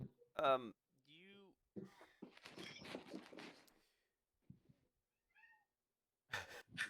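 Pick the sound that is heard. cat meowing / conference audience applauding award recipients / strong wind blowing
cat meowing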